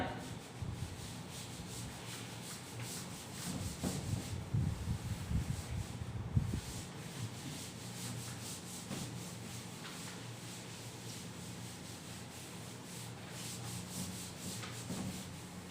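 Writing being rubbed off a classroom board during a maths lesson, heard as continuous scrubbing strokes that rise and fall in rhythm, with no talking.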